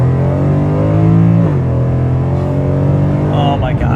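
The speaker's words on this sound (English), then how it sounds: "This car is tuned, so it does the little pop thingy, and it just does the automatic downshift." Mercedes C63 AMG, tuned, with a supercar exhaust, accelerating hard with a loud close engine roar that steps down at a shift, ending in a few crackles.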